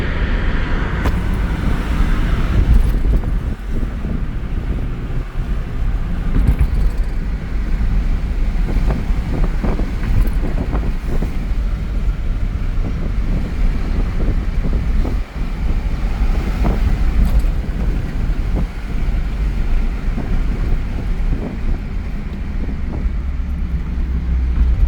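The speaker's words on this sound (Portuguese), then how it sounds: "Essa roda dianteira direita tá trepidando demais mesmo." Inside a Holden Omega sedan fitted with different wheels, driving at highway speed around 90 to 100 km/h with a shuddering front right wheel, a loud continuous road and wind rumble throughout, no talk.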